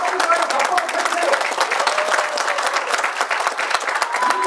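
Audience applause fills a political party training session in Goheung, dense steady clapping throughout at close range, with a faint voice running underneath.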